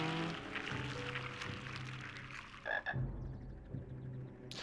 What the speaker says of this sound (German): Da sind Frösche